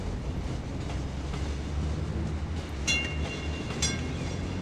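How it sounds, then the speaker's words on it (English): Tram running in a video game, a steady low rumble of rolling rail wheels, with two bright metallic squeals or clanks near the end and no voices. "This tram is still boarding passengers."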